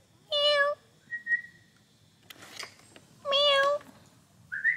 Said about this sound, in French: Non, mais t'es un chat, Maggie, tu peux passer en dessous, hein.